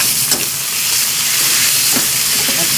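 Lomi ingredients are sautéed in a hot pan, making a loud, steady sizzle and hiss with faint scraping of a utensil, up close and without talk.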